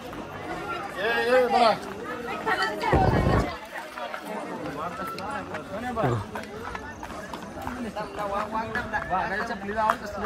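Night-time crowd of devotees at Ekvira temple, a busy murmur of chatter interrupted by a sharp burst of nearby clatter and louder individual voices cutting through the babble.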